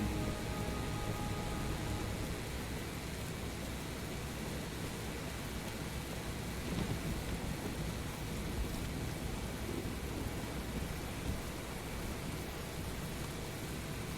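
Steady heavy rain from the video game Heavy Rain, a dense continuous hiss with low rumbling like distant thunder, even and unbroken throughout with no talking.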